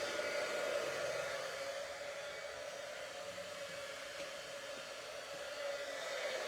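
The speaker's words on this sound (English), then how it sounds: "I need my heat tool" A heat embossing tool blows hot air in a steady, continuous whir with a constant pitch from start to finish, close and even, with no talking.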